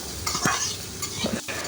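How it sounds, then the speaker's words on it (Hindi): Finely chopped onions (about half a kilo) frying in a pan with chicken: a brief moment of spatula stirring and scraping over a steady, soft sizzle. "आधा किलो के करीब प्याज को बारीक काट लिया था, उसको भी हम इसमें डालकर भून लेंगे"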